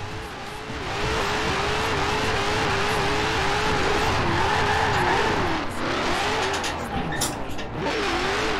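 An 1100-horsepower Dodge Demon in Forza Horizon 4, its engine roaring loud and sustained with wavering revs while tires squeal and skid, under faint background voices.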